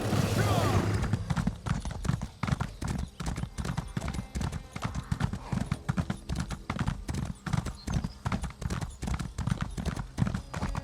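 Horse hooves clip-clop in a quick, steady rhythm from a mount in the Elder Scrolls Online video game, close and continuous, with a faint hum of game audio behind them.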